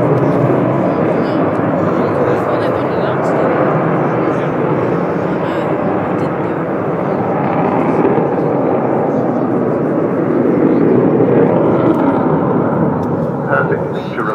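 An Avro Vulcan XH558 bomber displays at the 2015 Bournemouth Air Show, its engines a loud, steady, broad roar that holds unbroken throughout and swells slightly toward the end.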